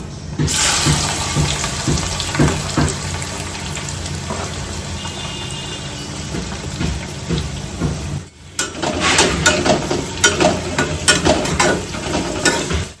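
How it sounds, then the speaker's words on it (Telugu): Onions frying in oil with cardamom, cloves and peppercorns for bagara rice, a loud close sizzle with stirring scrapes and clatters, briefly dropping near the middle before surging back stronger. "ఉల్లిపాయ అయితే గోల్డెన్ కలర్ వచ్చేంత వరకు వేయించుకోవాలండి"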